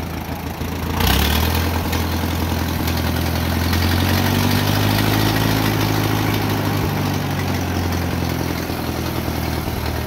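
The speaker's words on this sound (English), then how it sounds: "And that's how your tractor should run." Tractor engine converted from magneto to an external coil and distributor ignition, idling steadily and smoothly at a fairly loud, close level after a sharp onset about a second in, with no talk over it.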